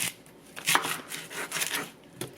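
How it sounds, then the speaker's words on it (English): Knife dicing half an onion for chorizo con papa: a few quick chopping taps against a board, the strokes uneven and close by, with no talk. "So I went ahead and diced up half an onion."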